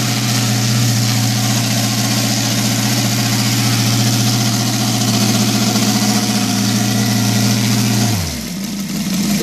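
A Mitsubishi Evo 7 engine, newly converted to run on gasoline, idles loud and close with a steady, even drone for several seconds, then the revs drop abruptly near the end.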